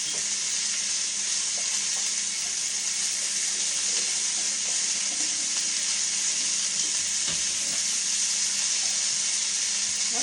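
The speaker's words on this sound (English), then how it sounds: "let me rinse the hands off real quick" Tap water runs in a steady, bright, hissing stream as hands are rinsed during salad preparation, continuing unbroken and fairly close with no talking.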